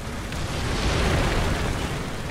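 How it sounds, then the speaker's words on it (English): A tank ammo rack detonating in War Thunder, hit in the side by an M4 Sherman's shot, bursts into a loud, sustained rumbling explosion that fills the whole short stretch with heavy low boom and roar. "I put a nice shot into the side of him, take him out, ammo racked him, and popped his turret off."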